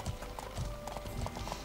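Horse hooves clip-clop in steady, repeated thuds in the medieval game Life Is Feudal, a clear walking rhythm of several strikes close by, with no talking over it.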